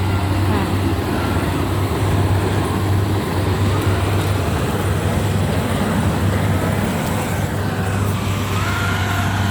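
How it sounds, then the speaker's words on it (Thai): A rice combine harvester runs loudly in a field, a constant heavy engine drone with a deep low hum, close and unbroken throughout. "รถเสียงที่มันดังไปหน่อยนะครับเพราะว่ารถเกี่ยวมันก็ต้องเสียงดังแล้วนะ"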